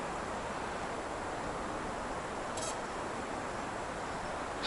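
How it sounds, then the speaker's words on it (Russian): Wind blows steadily through a pine forest, a continuous broad, airy roar that stays even and fairly loud throughout, with no voices. "послушаю звук ветра, который гудит"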